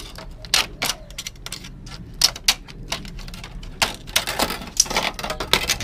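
Snipping wires while pulling gold finger strip boards out of an LCD TV or monitor, a run of sharp metallic clicks and snaps at uneven intervals, close by and with no speech.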